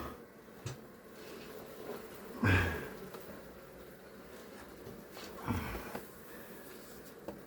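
Bees buzzing around an opened hive during a comb cut-out, a steady low insect drone with two brief louder bursts of movement close by.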